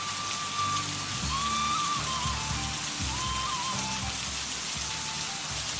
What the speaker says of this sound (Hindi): ऐसी भरी बारिश में हम और लकड़ियाँ थोड़ी ना भीगेंगी।